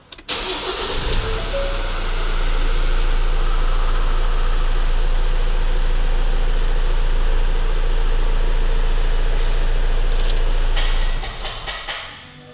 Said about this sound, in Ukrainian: перший пуск без антифризу